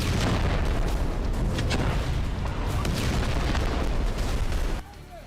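Explosions from Israeli bombardment of Gaza, a dense continuous roar of heavy blasts and rumbling lasting about five seconds, loud and sustained, then cutting off abruptly to near silence.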